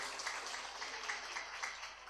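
Faint, distant applause for teachers at an Islamic boarding school event, a steady wash of many hands clapping that runs evenly throughout without a break.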